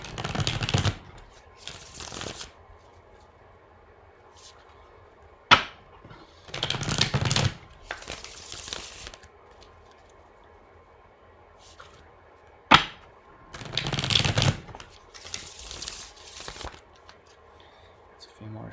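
A tarot deck is shuffled in several separate bursts of riffling and flapping cards, close to the microphone, with two sharp snaps or taps between the bursts and quiet stretches in between.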